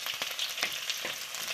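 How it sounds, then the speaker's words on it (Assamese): Onions frying in a pan on a medium flame for a local chicken curry, a continuous close sizzle with faint crackles and brief stirring scrapes. "পিঁয়াজখিনি অলপ ভাজ খাবলৈ দিলে ভাল"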